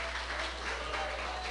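Church congregation applauding, a brief steady wash of clapping heard faintly in a reverberant room with a low hum beneath.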